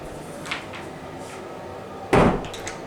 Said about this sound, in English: Go and shut the door.